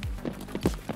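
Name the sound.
footsteps on wood in video game Escape from Tarkov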